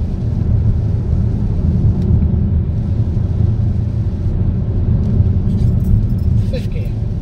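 A 2020 Vauxhall Grandland X Elite Nav turbo accelerating hard uphill in fourth gear, its steady engine drone and road rumble loud and continuous from inside the cabin throughout.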